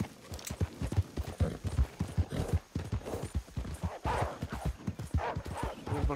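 Horse hooves in Red Dead Redemption 2 clop in a quick, steady galloping rhythm close by, loud and continuous, with an occasional faint whinny mixed in.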